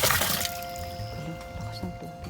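Strong, steady flow of water from an always-open faucet in a Japanese city park, splashing and pouring continuously up close with small drips and gurgles.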